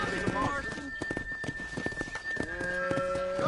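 Hooves clatter and cattle shuffle along amid shouting voices, with a steady high whistle-like tone running underneath the commotion.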